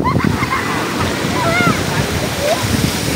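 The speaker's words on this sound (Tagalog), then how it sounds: "Ayan ang alon, ayan, oh." Loud ocean surf rushes and churns close by in a continuous wash, with a voice calling out over the waves.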